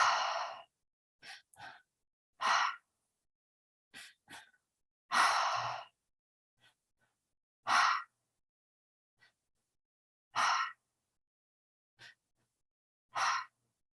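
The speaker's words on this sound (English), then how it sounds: "Deep breath in. Deep breath out." Slow, deep breaths drawn in and let out during a guided breathing exercise, each breath a soft, airy whoosh repeating at unhurried intervals with silence in between, close and clear with no talking.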